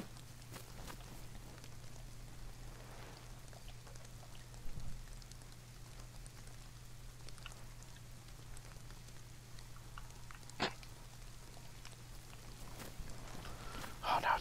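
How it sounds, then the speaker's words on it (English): Rain patters steadily in the video game DayZ, a soft, even hiss of drops with a low hum beneath and a few louder knocks scattered through. "Raining"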